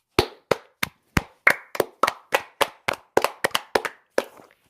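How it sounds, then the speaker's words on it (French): A person claps their hands about fifteen times in an uneven rhythm, each clap a sharp, close, loud crack, with no talking. "Pour ceux qui n'ont pas compris, c'était des applaudissements."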